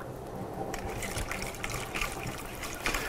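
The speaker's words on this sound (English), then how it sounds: "and water, about a cup of water." Water pours into a bowl nearby in a steady, splashing gush that fills for a few seconds.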